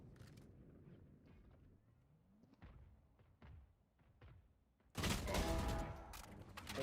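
Missiles launched in a video game: a quiet stretch of scattered thumps and mechanical clicks gives way to a sudden loud burst of rapid, overlapping blasts that rumbles on to the end, with no talking.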